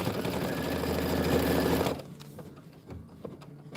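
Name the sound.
embroidery machine stitching out a butterfly design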